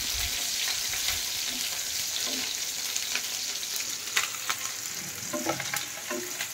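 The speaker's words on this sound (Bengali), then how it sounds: "এই যে পেঁয়াজ ভাজা চলছে" Onions sizzle softly in a pan on a stormy evening, a continuous close fry with occasional stirring clicks, backed by a wash of steady rain outside.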